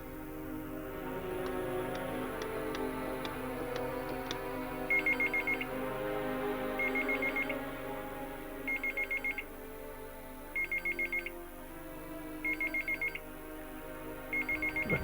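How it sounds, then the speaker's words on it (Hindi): Telephone at a police station rings unanswered: a sharp electronic ring repeats in regular short bursts about every two seconds, over a background of music and low room sound. "घंटी तो बज रही है लेकिन कोई उठा नहीं रहा है।"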